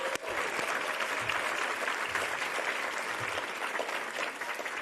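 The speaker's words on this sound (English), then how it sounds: "Let's give them all a round of applause." Sustained, steady applause from the audience at the Braille Challenge Finals award ceremony, a dense, even clapping that holds at the same level for about five seconds with no voices above it.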